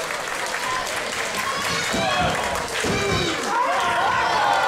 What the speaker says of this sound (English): The crowd in London enjoying that one.